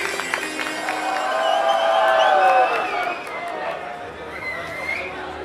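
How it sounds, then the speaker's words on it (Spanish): A lively crowd at a cosplay runway show cheers and whoops with scattered clapping, loud and sustained, swelling in the middle before easing off, with voices mixed in. "Un aplauso bien fuerte."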